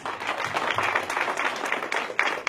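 Audience applause for the IT Serve Alliance at an ITServe event, a steady wash of many hands clapping with no voices, moderately loud and continuous throughout.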